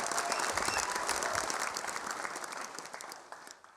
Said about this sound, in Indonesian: Tepuk tangan buat Basuki Cahayapurnama